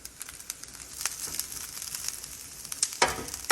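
Fried rice sizzles on a flat-top griddle while two spatulas scrape, toss and work through it, a close, steady crackle broken by sharp metallic scrapes and a louder burst near the end.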